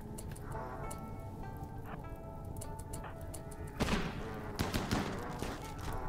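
Gunfire in the Rimworld video game: a fusillade of rapid shots with a sharper cluster of bursts toward the end, layered over a steady background tone.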